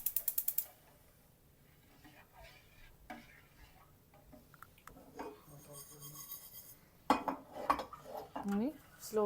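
A gas stove knob clicks rapidly several times as the burner ignites, followed by a quiet lull and then scattered clatter of a pan and utensils nearby.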